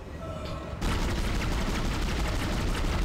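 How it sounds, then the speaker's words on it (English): Rapid gunfire at a monster in the video game Dead Space: a dense, continuous burst of loud shots that begins abruptly and keeps going to the end, following a brief quieter stretch. "I'm shooting him in the ass."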